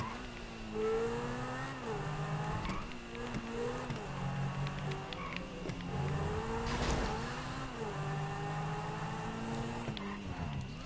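A car engine in Grand Theft Auto 5 revs up and down in rising and falling sweeps, steady and moderately loud, with no voices over it.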